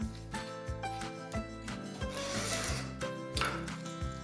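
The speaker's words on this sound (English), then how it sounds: "I'm using a veneer saw" Veneer saw cutting wood veneer along a 1/4 inch MDF panel: quiet, close, rhythmic rasping strokes of the fine-toothed blade, back-and-forth scrapes repeating roughly twice a second.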